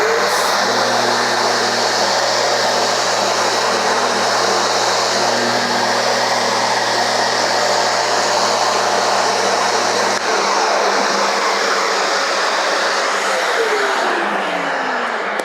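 An electric sander runs on a furniture piece, shaping around legs and curved edges: a loud, steady motor whine with a constant grinding hiss that holds for about ten seconds, then shifts to a thinner tone as the load changes.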